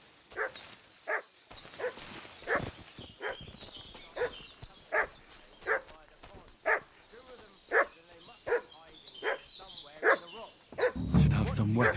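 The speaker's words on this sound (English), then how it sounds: "What's that dog making such a fuss about?" A dog barking and fussing in Kingdom Come Deliverance 2, a long run of evenly spaced, fairly distant barks with someone talking over the early part and a muffled rumble at the close.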